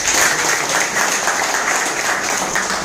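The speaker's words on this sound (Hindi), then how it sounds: "उसके लिए जोरदार ताली हुई" Loud, sustained applause from an audience at a business seminar, a dense wash of clapping that holds steady for about three seconds with no speech over it.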